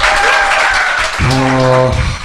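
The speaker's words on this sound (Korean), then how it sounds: "대단히 훌륭한 박수 한번 부탁드립니다" An audience applauds on a Korean talk show, a dense burst of clapping that fills the first half before a sustained, pitched musical tone takes over and carries to the end.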